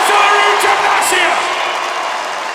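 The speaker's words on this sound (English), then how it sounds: "you can hear the crowd here in Manchester react" An arena crowd at the 2017 World Deadlift Championships in Manchester reacts to a lift with loud whoops, yells and cheering that start strong and ease slightly over a few seconds.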